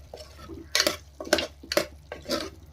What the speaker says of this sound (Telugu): గరం మసాలా కొద్దిగా ఇప్పుడు బాగా కలిపెట్టుకుందాం